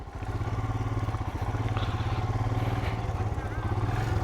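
A motorcycle engine runs steadily on a mountain road in Ladakh, a loud, close, continuous throbbing drone with rattling clatter that holds through the whole stretch.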